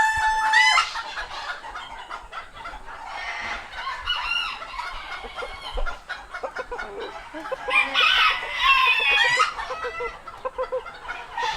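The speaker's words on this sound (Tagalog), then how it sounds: "Cochin hen." Several chickens cluck and call nearby, Cochin hens among them, with a cock crowing in the mix. The busy fowl chatter goes on throughout.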